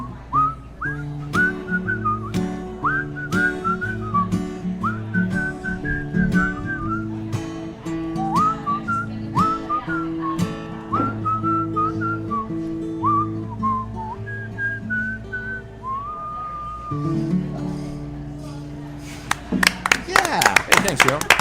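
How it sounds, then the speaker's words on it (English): A lone whistler carries a lively, wavering melody over a steady musical backing, ending in a burst of applause. "Whistle solo."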